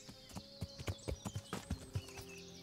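Horse hooves gallop in the medieval video game Kingdom Come: Deliverance, a rapid, steady clip-clop of close, distinct thuds repeating through the clip with no talk.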